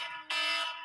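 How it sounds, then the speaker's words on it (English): An electronic alarm goes off indoors during a nursing lesson on CPR, a steady high-pitched buzzing tone that starts abruptly and holds fairly loud to the end, with no talk over it. "That's my alarm, sorry."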